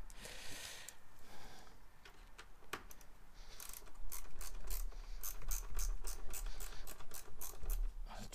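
A ratchet wrench clicks in rapid repeated bursts while loosening the screws on the air filter box of a Renault Megane 3 1.5 dCi, close and fairly loud, with faint mechanical scraping between the runs of clicks.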